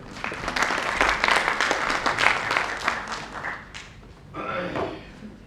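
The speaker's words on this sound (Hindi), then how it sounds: "तालियां हो जाए।" Audience applause at a theatre festival in Bhopal, a dense burst of clapping that swells, then fades out after a few seconds, followed by a brief rustle of movement and other sounds.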